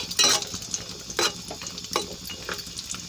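Cashews and raisins frying in hot fat for bread halwa, a close crackling sizzle broken by several sharp stirring scrapes and clatters of a spoon against the pan, with no voices.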